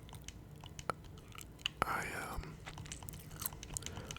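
Gum chewed close to the microphone, giving soft wet smacks and sharp clicks at an irregular pace, with low whispering in the background.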